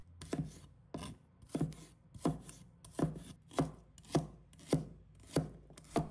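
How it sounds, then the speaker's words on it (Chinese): A knife chops a few shallots into small pieces in a steady, even rhythm of about nine crisp, close strikes, with no voices. "几个红葱头，把它切成小块。"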